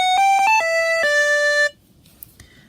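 Buzzy chiptune synth phrase made in GarageBand for a Sonic Mania intro remake, with a quick upward flick on one note; several fast stepped notes lead into a held tone that cuts off, leaving near silence.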